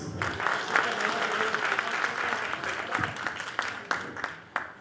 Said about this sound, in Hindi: हमारी श्रीदेवी इसके लिए तालियां प्लीज।